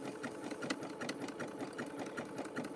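A sewing machine runs steadily with a fast, even mechanical chatter while stitching a rope bowl, close and fairly quiet, with no talking over it.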